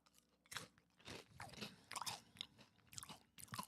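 Chips crunch loudly and close up in repeated bites and chews, an irregular string of crisp crackling bursts with brief pauses between, no talking.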